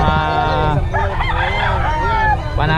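Fighting roosters crow loudly and close, several long drawn-out calls following one another, with people talking faintly in the background.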